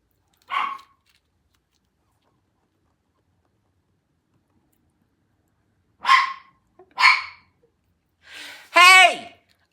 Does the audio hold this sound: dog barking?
yes